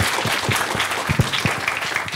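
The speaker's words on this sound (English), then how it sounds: "Let's give Gita a big round of applause." An audience applauds at the end of a plenary economics talk at ISI Delhi, with steady, moderately loud hand clapping from a roomful of people and distinct individual claps audible near the front.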